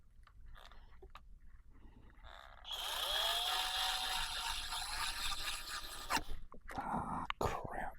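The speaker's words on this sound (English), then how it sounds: "I still got to drill another hole." A power drill bores a hole in wood during an RC Legend Hobby B-17 air-retract install, a high whining burst of about three seconds after quiet handling, followed by clicks and light knocks.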